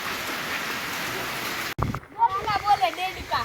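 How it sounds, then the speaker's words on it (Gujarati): Torrential monsoon rain on farmland hisses as a steady, dense wash for the first half, then drops away as people talk over fainter patter. "પેલા વરસાદનો એન્જોય ચાલુ છે"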